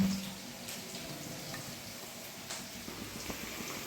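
Onions frying and being stirred in a pan in a home kitchen, a steady soft sizzle with occasional scraping and clinks of the spatula, close and moderately quiet, with no talking.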